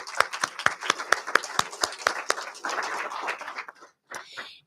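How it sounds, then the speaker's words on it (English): A city council meeting audience claps after the participants are thanked, a run of distinct individual claps swelling into brief scattered applause before it fades out. "Let's give everyone who participated a big round of applause."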